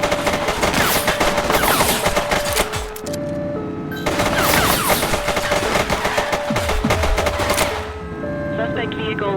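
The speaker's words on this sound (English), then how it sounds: "Central, shots fired. Possible gang shootout." Bursts of rapid automatic gunfire in a gang shootout in the police game The Precinct, two dense volleys of several seconds each separated by a brief lull, loud and close over a steady background hum.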